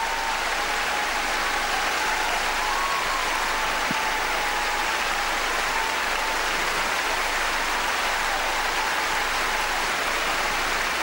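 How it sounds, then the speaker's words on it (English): A figure skating crowd at the 2007 World Championships gives a standing ovation for the pair Shen and Zhao, with loud, dense, continuous applause filling the arena without a break. "Standing ovation."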